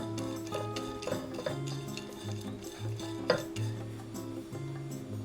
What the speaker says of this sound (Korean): 볶아서 잡내를 날렸다.